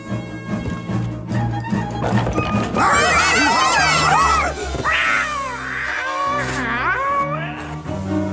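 A cartoon cat in an animated Chip 'n Dale episode yowls and caterwauls loudly in long, wavering, rising and falling cries, with a few lower growling tones between them.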